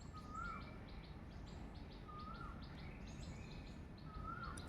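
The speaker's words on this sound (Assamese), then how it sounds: "অকণ কুলি এজনীয়ে মাতি আছে।" An Asian koel calls outdoors in cool, fresh air, its whistled notes coming three times at even intervals, fairly distant and faint over a steady bed of insect trills and rustling.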